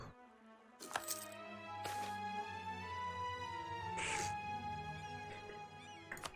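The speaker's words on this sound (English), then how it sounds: "Hi, talkative cat. What's up with you?" A talkative cat meows in several drawn-out, wavering calls, close and fairly quiet, with a few sharp clicks and taps between them and no speech over it.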